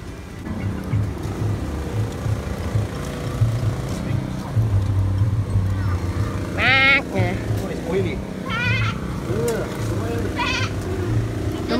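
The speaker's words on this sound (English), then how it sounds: "Domestic goats, they're bigger than I." Large domestic goats bleat several times in wavering cries over background chatter and a low rumble of outdoor noise in Kuala Lumpur.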